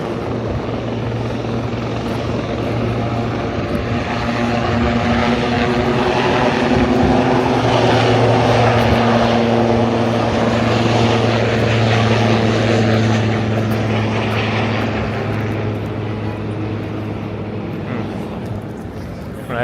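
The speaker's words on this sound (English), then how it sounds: "Helicopter's taking off." A helicopter takes off in New York City with a loud, continuous rotor drone that swells and holds before slowly fading as it climbs away.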